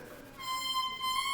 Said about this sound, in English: When she blows wind over the double reed, it vibrates and sounds like this.